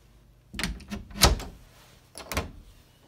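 A linen closet door in a condo unit opens with a few soft wooden knocks and rattles close by, fairly quiet in an otherwise still room.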